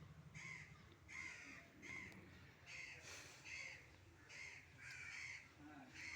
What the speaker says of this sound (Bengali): এই কাক ডাকছে কাকা করে দুপুরবেলা